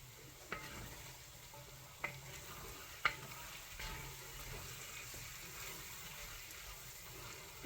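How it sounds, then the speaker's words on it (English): Chicken browning in a pan for a stir fry gives a soft, steady sizzle, broken by a few sharp clicks and scrapes of a utensil as it is stirred. "right now I'm just stirring the chicken"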